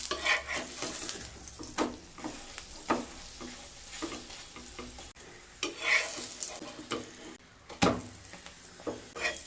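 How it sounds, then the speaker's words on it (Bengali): Chhatu (sattu) parathas fry in oil in a pan, with a steady sizzle broken by repeated scraping and turning strokes of a spatula against the metal, close and fairly loud, with no talking. "তেল দিয়ে পরোটাগুলোকে খুব ভালো করে ভেজে নেব।"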